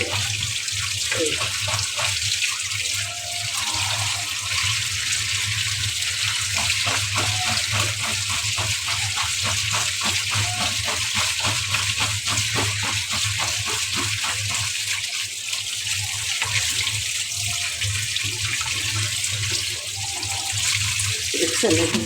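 Tap water runs steadily and continuously for over twenty seconds while taro (kochu) is washed for cooking, a close, even splashing gush with low background hum.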